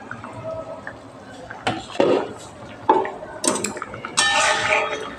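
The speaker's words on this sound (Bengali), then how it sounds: "দেখি একটু ঢাকাটা খুলে।" A metal lid comes off a pot of bubbling taro, potato and hilsa fish curry with several sharp clanks and scrapes, close and loud, against a low kitchen background.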